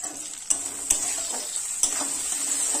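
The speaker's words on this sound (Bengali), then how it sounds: "ভালোভাবে কষাই করে নেব।" Onion, garlic paste, chopped green chilli and cumin-pepper paste are stir-fried in a pan, with a continuous loud sizzle and a few sharp scraping strokes of a spatula, close up.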